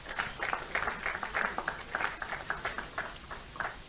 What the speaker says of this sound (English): Please, let's give her a round of applause to take a seat.